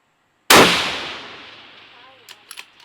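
A single loud 6mm Creedmoor rifle shot cracks out close by at an outdoor range, its report echoing and decaying over two seconds, followed by faint distant knocks.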